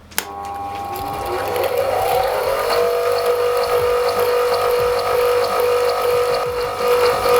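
A ProCraft bench grinder whirs steadily after switching on, a continuous even mechanical hum with a faint rising whine, running alone without talk.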